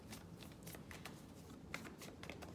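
Angel oracle cards being shuffled by hand, a soft steady rustle and riffle of card stock with faint flicks, close and quiet, with no voices.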